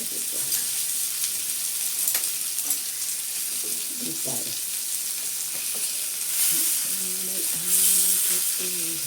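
Kanangatha fish frying in a pan and being flipped, a constant close sizzle with clatters and scraping of the turner, loud and steady throughout, with brief muffled voice sounds.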